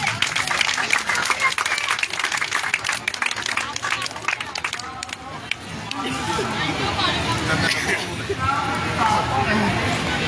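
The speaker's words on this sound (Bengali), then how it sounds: "আমরা সকলে করতালির মধ্য দিয়ে অভিনন্দন অভিনন্দন জ্ঞাপন করছি" A crowd at a political event applauding with dense, continuous clapping that gradually becomes a broader roar, with murmuring voices mixed in throughout.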